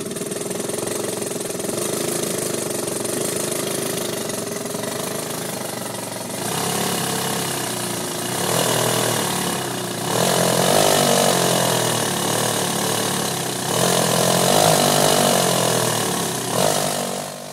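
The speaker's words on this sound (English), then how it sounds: "Note how quickly the engine spools up to high speed with the rapid injection of water into the baseline" A BRASH quasiturbine engine with water injected into its airflow runs with a steady mechanical drone, its pitch and loudness rising in stages as it spools up to high speed, close and continuous without talk.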